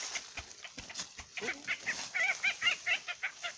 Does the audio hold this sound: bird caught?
yes